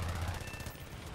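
Rapid biplane machine gun fire in the War Thunder game, a steady rattling burst that runs throughout at a constant loud level.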